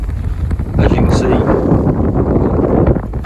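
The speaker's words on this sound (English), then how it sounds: "that's a bit windy" Strong northeasterly wind buffets the microphone on Caister beach in Norfolk, a loud, rumbling low roar that swells partway through and keeps gusting.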